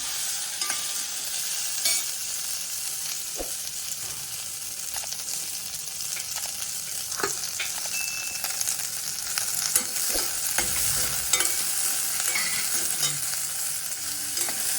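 Onion and garlic fry in a pan of oil with coriander powder for a bitter gourd curry, giving a continuous close sizzle with occasional scraping stirs and small clinks.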